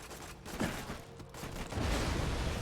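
Grenade blasts in the video game Borderlands 2, a dense rumbling barrage of explosions that swells louder toward the end, continuous and close with no talking.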